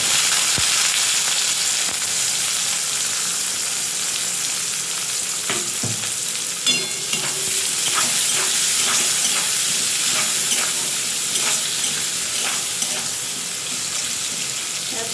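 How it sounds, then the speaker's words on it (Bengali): Onions frying in hot oil with salt added during home cooking of a chicken and potato curry, a loud steady sizzle filling the whole stretch with scattered scraping stirs and light clinks against the pan. "ভালো করে পেঁয়াজটাকে কষিয়ে নেব"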